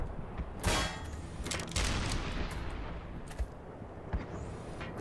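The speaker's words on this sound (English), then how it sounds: "That's a tank." A tank fires in the Black Mesa video game: loud, close cannon blasts and bursts of gunfire-like explosions come in several sharp hits, with a heavy boom near the start and smaller cracks trailing off.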